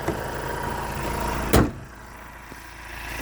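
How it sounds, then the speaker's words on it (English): A single solid thump of the hood of a 2018 Ford Transit Custom 2.0 TD van being shut, heard over a low, steady diesel engine hum that continues afterward. "I'll just close this engine bay here."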